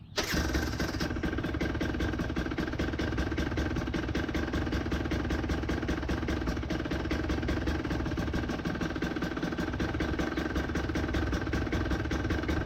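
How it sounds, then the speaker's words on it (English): A KTM TE 150i two-stroke dirt bike fitted with an easy idle mod idles low and chugging, a steady close mechanical throb with rapid even pulses continuing unbroken after a brief start. "So this is just so you guys can hear how it's idling."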